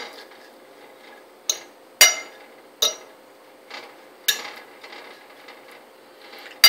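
Cauliflower rice mixed with minced garlic and canola oil in a dish gives sharp utensil clinks and taps against the dish, spaced irregularly over a quiet background.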